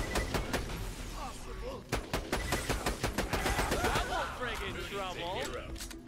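Vladof sniper rifle firing in Borderlands The Pre-Sequel, rapid sharp shots in quick repeated bursts, loud and close, with other game effects and a voice running underneath.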